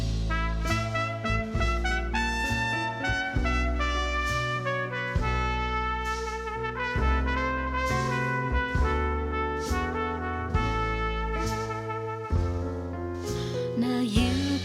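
A full song plays with vocals and prominent trumpet over a dense band backing, steady and loud throughout the excerpt, no talking.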